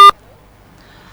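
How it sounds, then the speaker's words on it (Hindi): A single short, loud electronic beep cuts off a phone line during a radio call-in program, followed by near silence. "फेर से फोन लाइन डिस्कनेक्ट भ चुकल अछि"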